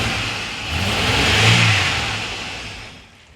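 A Holden Commodore with the L36 engine running rough under revving: a close, loud, uneven engine note that swells to a peak and then falls back, with no talk over it.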